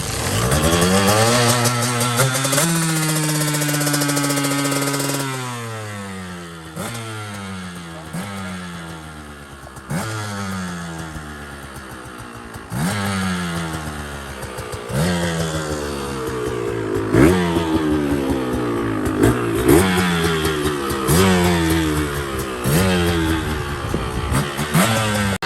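A KTM 125 two-stroke dirt bike, set up as a hillclimber with an extended swing arm, fires up and idles, then revs hard again and again. Loud, rising and falling engine pitch, close by.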